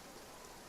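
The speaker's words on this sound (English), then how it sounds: "Looks like rain." Steady rain falls in Genshin Impact's Fontaine region, a dense, even hiss of droplets heard alone for a brief moment.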